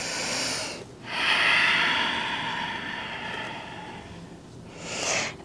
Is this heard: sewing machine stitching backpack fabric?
no